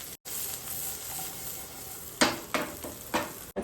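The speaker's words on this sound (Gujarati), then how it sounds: "આપણે આમાં શેકી દઈશું. આપેલા ચણા બી નાખી દઈશું." Chickpeas roasting in a hot pan sizzle steadily, then three sharp stirring scrapes sound close and clear near the end.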